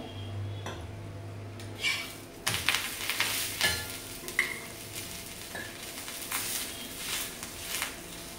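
Chopped garlic roasting in a pan for a cashew makhana curry, a soft sizzle under intermittent clinks and scrapes of a utensil against the pan, fairly quiet and close with no talking.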